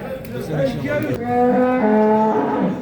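Cattle and calves at the Çorum Sungurlu livestock market give long, loud, drawn-out moos, one after another, over background crowd chatter.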